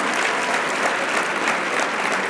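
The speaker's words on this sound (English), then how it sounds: "Please clap for me." Dense, steady applause from a conference audience at a leadership event, many hands clapping together in a continuous wash of sound at close range.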